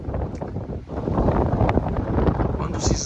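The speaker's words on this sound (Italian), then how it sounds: "Ne ho approfittato oggi con questo vento forte." Strong wind buffets the microphone near a small wind turbine during a 50 km/h wind test, a steady loud rushing roar with gusty surges throughout and no clear talk.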